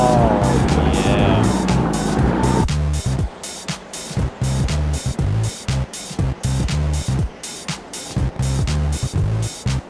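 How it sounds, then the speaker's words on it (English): Cars in the physics video game Turbo Dismount crashing and skidding, with engine roar, tire squeal and repeated loud thumping impacts in a busy, steady rhythm. "This car is like indestructible."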